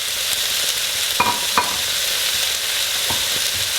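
Browned beef goes back into a hot pan for Texas chili and sizzles loudly and steadily, with a couple of sharp scrapes and clinks from a spoon stirring it.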